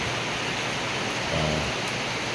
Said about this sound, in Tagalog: Patuloy lumalakas ang ulan ditong banda.